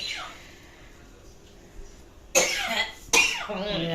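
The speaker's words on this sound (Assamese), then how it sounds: "কাহি আছে পুৰা।" Two harsh, abrupt coughs close up from a person with a cold, spaced a moment apart, followed by a voice starting to speak.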